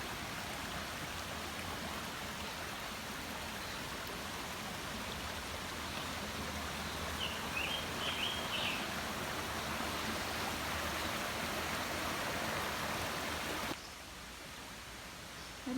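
Little Antietam Creek flows in a steady, rushing wash close by, continuous and even, dropping slightly in level near the end.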